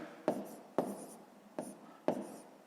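A pen writes numbers on paper for a fifth-grade math exercise, with four quick, crisp scratching strokes at an uneven pace, quiet and close, with no voice.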